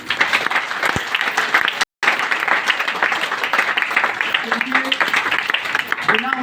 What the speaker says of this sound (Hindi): तो एक जोरदार ताली ऊपर वाले के लिए।